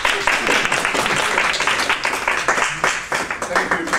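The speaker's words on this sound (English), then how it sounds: "stop that round of applause" A crowd at a benefit justice campaign summit claps in a dense, continuous patter that runs the whole time, mixed with some talking.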